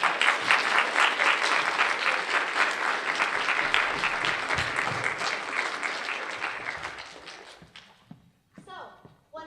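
An audience claps at the end of an act in a stage play, loud dense applause that gradually thins and fades away, followed by a few faint spoken words near the end.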